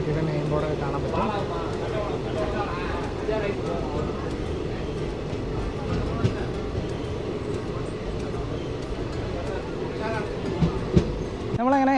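A train rumbles steadily at Kovilpatti railway station, a continuous low roll with faint clicks of the wheels, while people talk over it.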